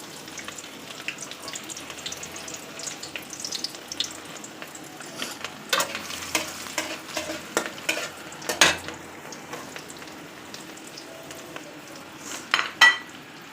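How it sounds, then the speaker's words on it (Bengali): Nuts fry in hot ghee in a pan, a steady sizzle running throughout with scattered spoon stirs and clinks against the metal, closer scrapes growing louder toward the end; no one speaks. "কিছু বাদাম ভেজে নিব।"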